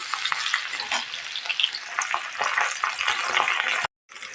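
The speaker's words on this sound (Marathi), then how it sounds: "आता आपण यामध्ये सर्वप्रथम हा चिरलेला एक कांदा घालूया" Chopped onion sizzling and crackling in hot oil while being stirred, for a village-style soda potato curry. The frying is loud and steady, with a brief gap near the end.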